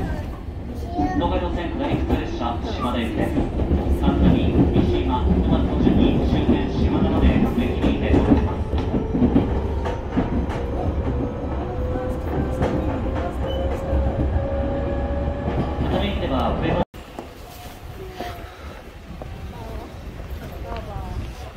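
A passenger train riding with its carriage nearly empty, heard from inside: a loud steady rumble with rhythmic rattling and a rising whine, then a sudden cut to a quieter, thinner interior noise near the end.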